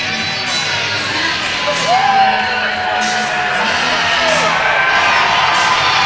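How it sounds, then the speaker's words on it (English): A fight crowd cheers between rounds, a loud sustained roar with whoops and yells rising and falling around occasional shouts. "Crowd is getting amped up."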